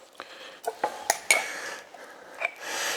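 Clinks and taps of a spoon against an empty glass fruit jar while apricot preserves are mixed inside it, a handful of sharp knocks spread irregularly over a few seconds, fairly close and with no talking.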